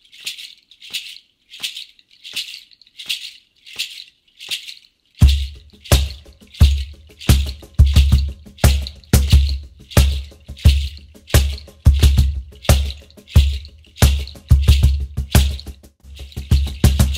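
Kenen Seeds foot shaker on a cajon player's foot, crisp rattling shakes in a steady beat, first alone, then joined by deep cajon thumps and slaps keeping the same groove.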